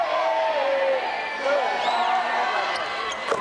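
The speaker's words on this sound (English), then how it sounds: "And a well-deserved round of applause to Josh Cobb by the Wallace fans." Basketball fans in a gym at a 1992 Class D1 boys state championship cheer and shout, a loud crowd roar with whoops rising and falling under a commentator's voice.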